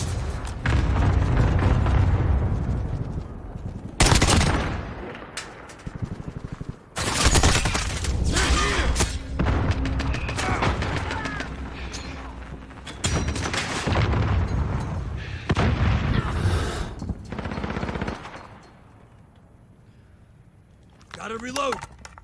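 SKS rifle fire in the video game Call of Duty Modern Warfare: loud, close bursts of single shots and explosive booms in rapid fusillades, broken by short lulls, with someone talking over and between the shots.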